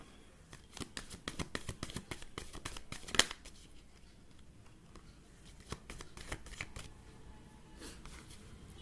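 Playing cards shuffled repeatedly at close range, a run of crisp riffling bursts with short pauses between them, fairly quiet and with no talking.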